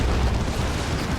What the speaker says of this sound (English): That was a Demolisher Cannon.